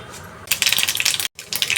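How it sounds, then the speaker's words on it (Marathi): A spoonful of mustard seeds pops in three to four spoons of hot oil for tempering a raw mango pickle, a close, rapid crackling burst that breaks off for an instant before the sharp popping resumes. "आता राई तडकली आहे"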